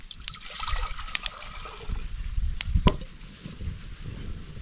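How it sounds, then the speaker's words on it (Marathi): Water splashes and trickles into a metal pot on a wood-fired stove, with a few sharp clinks of the vessel and a gurgling pour. "आता मी ही भांड ठेवते चुलीवर पाणी घालते त्याच्यात"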